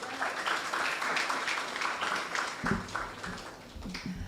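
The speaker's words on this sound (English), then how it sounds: "Let's give him another round of applause." An audience at a student internship programme closing ceremony applauds with dense, steady clapping that fills the whole stretch, with a few louder thumps near the end.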